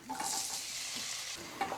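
Steady sizzling of chopped tomatoes sautéing in butter in a pan, with a soft stir or scrape near the end; no voices.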